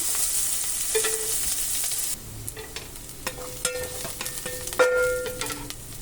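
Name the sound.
chana dal frying in hot oil in a pan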